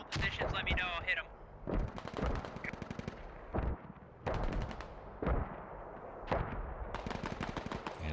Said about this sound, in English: it looks like an artillery barrage just went down on the southeastern corner of the airfield